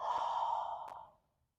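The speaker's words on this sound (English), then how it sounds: "Take a nice deep breath here. And exhale." A single long, deep exhale at the end of a yoga cool-down stretch, close and breathy, lasting about a second and fading to silence, with no speech.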